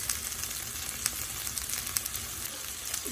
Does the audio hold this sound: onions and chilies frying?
yes